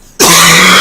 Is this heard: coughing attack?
yes